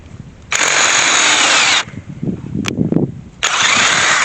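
A smoking but still-working power drill whirs loudly in two long bursts, with a short clattering, rattling pause between them.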